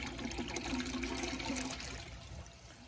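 A 2002 Sanitarios Maracay toilet flushing, a short close rush and gurgle of water that trails off into a fading trickle.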